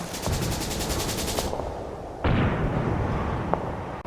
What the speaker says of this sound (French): Les canons Howitzer ouvrent le feu sur le char Tigre.